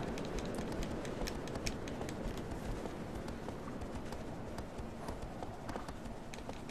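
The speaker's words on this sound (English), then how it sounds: "Go, horse, go." Galloping horse hooves in the Shadow of the Colossus video game, a steady rapid clip-clop running under continuous background game noise with no talking.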